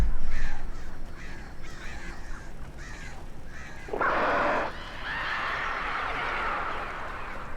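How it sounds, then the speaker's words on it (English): Crows caw in the video game Alan Wake with a series of harsh, raspy calls, some overlapping and one louder burst partway through, heard against an ambient game background. "That's a lot of birds or some kind of monstrosity."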